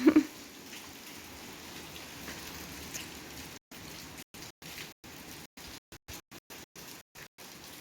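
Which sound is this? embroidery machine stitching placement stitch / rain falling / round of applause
rain falling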